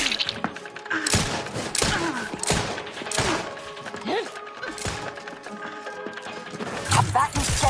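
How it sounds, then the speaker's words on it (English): The Outer Worlds 2 combat on PC delivers repeated gunshots, crashing impacts and thuds in irregular bursts under game music and effects, with voices speaking at times. "We are shooting down to stop them."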